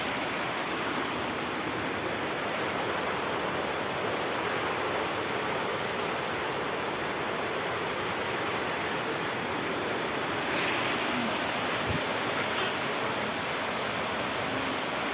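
Heavy rain from Super Typhoon Goring roars with floodwater rising inside a house, a loud, unbroken wash of noise with no voices.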